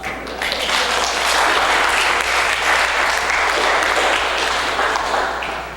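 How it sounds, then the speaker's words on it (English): A packed audience at a Hawaiian language immersion gathering on Lana'i breaks into loud, dense applause, sustained steady clapping that swells slightly and tapers off near the end. "Please hold your applause to the end."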